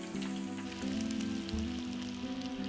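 Prawn toasts fry in a pan with a soft, steady sizzle and crackle of hot fat, heard faintly beneath background music.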